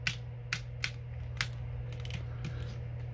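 Sharp plastic clicks from a ratchet hip joint on an action figure being moved, several distinct close clicks at uneven intervals over a low steady hum.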